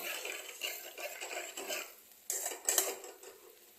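Rohu fish and onion curry stirred in a pan, a run of soft scraping and clinking strokes from a utensil, louder knocks near the end, with no speech.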